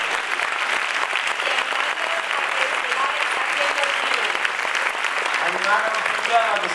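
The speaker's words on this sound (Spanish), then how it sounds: "Por supuesto, un aplauso para todos ellos." A crowd at a short film festival closing gala in San Roque applauds the award winners with loud, continuous clapping throughout, while a few voices murmur faintly underneath.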